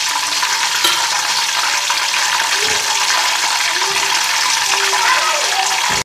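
Spices hit melted butter and oil in a pan for chicken biryani, giving a loud, continuous sizzle with a few stirring clinks and scrapes throughout.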